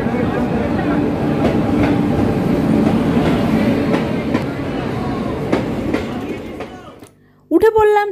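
A train rumbles and clatters nearby with rhythmic wheel clacks as it arrives at a station, slowing and fading toward the end before a short burst of voices.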